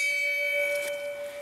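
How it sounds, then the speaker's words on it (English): A bell rings out once at the back of a small town, a clear sustained tone that fades away gradually, with no other sounds alongside it. "There's a bell right there."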